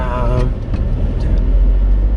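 Engines of sports cars, including a Lamborghini and Porsches, rumble loudly as they pass nearby in Knokke, Belgium, a deep throaty roar that swells toward the end, with brief voices early on.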